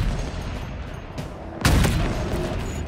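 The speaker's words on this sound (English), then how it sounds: "This is how a sniper rifle should sound." Single sharp, booming report from the S7 sniper rifle in a Halo game, sounding once mid-clip with a loud burst that rings out and decays over low game ambience.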